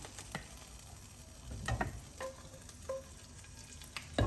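Oil sizzling faintly in a pan as vegetables are sauteed for savory rice, a low steady hiss broken by a few clanks and stirring scrapes of a utensil.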